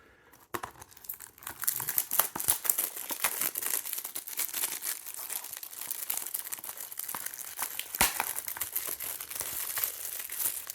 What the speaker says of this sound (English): This plastic seems to be cooperating better than the plastic on that damn slipcover